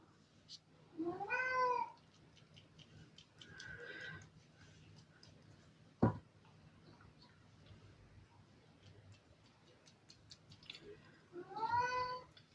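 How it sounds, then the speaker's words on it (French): A house cat meows indoors, giving two clear drawn-out cries near the start and end plus a softer one in between, against a quiet room with a single sharp knock. "Il y a mon chat qui miaule."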